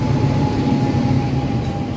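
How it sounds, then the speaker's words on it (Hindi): An Indian Railways train pulls into a station in Odisha, giving a steady, loud rumble of rolling wagons with a faint high whine throughout and no talk. "आ गई ट्रेन आ गई भाई साहब अपनी भारतीय रेल।"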